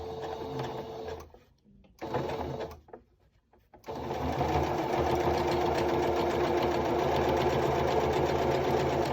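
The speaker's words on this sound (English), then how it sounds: "Try that again. I want a back stitch." A serger sewing machine stitching a thick cloth face mask runs in a loud, rapid mechanical whir, stops briefly twice, then restarts and keeps chugging steadily at close range.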